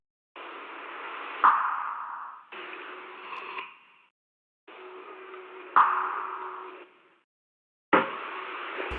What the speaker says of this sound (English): like the perk loop, right? Which I got this from I